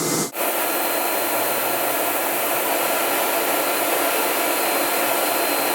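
In a spray tan booth, a loud, steady rush of drying air blows without a break, like a powerful hair dryer, after a brief click at the start.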